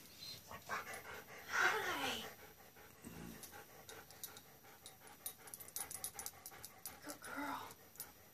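A female dog pants and whimpers in close, uneven bursts at night, with a few faint yips, while a person speaks softly to her now and then.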